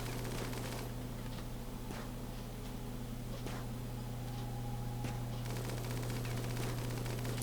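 Guns fire in rapid, scattered bursts of sharp cracks over a constant low electronic hum, with colonists shooting in the Rimworld video game.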